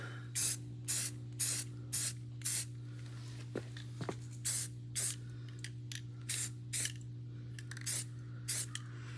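Short repeated bursts of aerosol spray paint onto a rifle and its bipod, about a dozen evenly spaced hisses, close by, with a steady low hum underneath.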